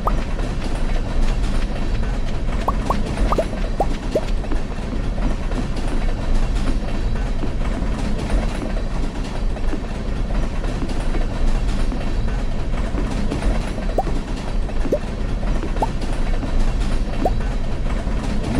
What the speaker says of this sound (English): This is why we wanted to be here for the train.